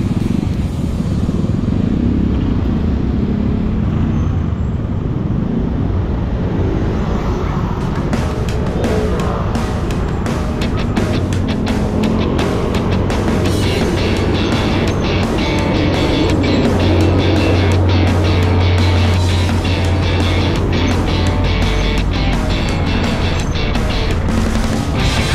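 Steady road traffic at night in the Philippines near a lockdown checkpoint between Rizal and Quezon City, a continuous loud rumble of car and motorcycle engines with a deeper swell of passing vehicles toward the end.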